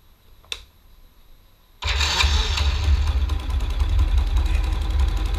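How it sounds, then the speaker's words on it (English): A motorcycle engine with a carburetor cranks and starts, then settles into a steady, loud idle running close by with no one talking. "So I'll start the bike now just to demonstrate the idle screw."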